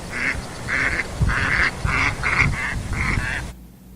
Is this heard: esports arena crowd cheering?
no